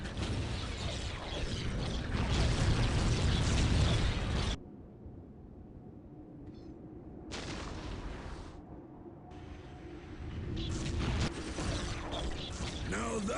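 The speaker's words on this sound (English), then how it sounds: "Now that's an explosion!" An explosion in a strategy video game, heavy broadband blasting and rumbling battle noise that cuts off abruptly, followed by quieter mechanical clicks and further short bursts.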